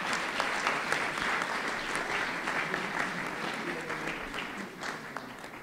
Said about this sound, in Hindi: उनके लिए एक बार तालियां हो जाए।